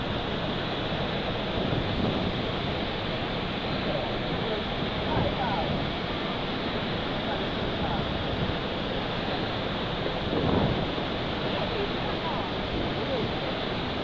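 Shifen Waterfall in Taiwan, swollen after heavy rain, gives a constant dense roar of falling water, loud and unbroken from start to finish.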